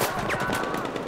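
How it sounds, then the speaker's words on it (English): Gunfire in the video game Battlefield 4, a dense burst of rapid shots with crackling echoes running the whole moment, loud and close, with no one speaking over it. "Who's shooting?"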